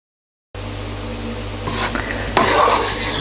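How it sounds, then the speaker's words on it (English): Raisins fry in hot oil in a pan with a steady sizzle that starts abruptly, with occasional stirring scrapes and a louder clatter near the end. "into the same oil I'm now going to add the raisins, and again give them a couple of minutes just to sort of like fry away nicely"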